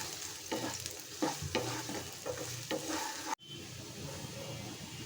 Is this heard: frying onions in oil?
yes